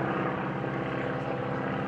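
A 1930s-design propeller airplane flies a low barnstormer's loop at an airshow, its engine and propeller making a steady, loud, pulsing drone throughout.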